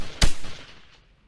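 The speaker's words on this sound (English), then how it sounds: "Prime those muskets and fire." A single sharp musket volley in an Ageod strategy game, one loud close crack that trails off into a short fading rumble.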